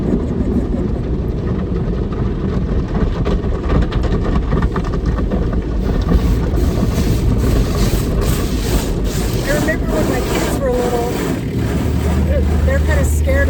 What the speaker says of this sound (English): They're kind of scared of the car wash.